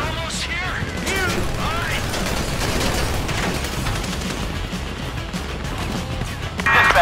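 Gunfire crackles through a GTA V heist mission, dense rapid shots and crashes mixed with engine rumble and game noise, continuous and fairly loud, with shouted voices over it.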